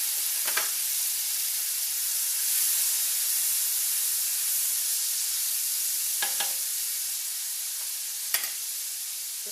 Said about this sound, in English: this is about 2 tablespoons of coconut oil. And to that, I'm adding 1, 2 tablespoons of minced garlic